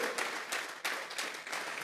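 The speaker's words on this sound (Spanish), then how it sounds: "Vamos a regalarle ofrenda de palmas al Dios de la gloria" A church congregation breaks into a steady round of applause offered to God, a dense crackle of many hands clapping close by, lasting throughout without pause.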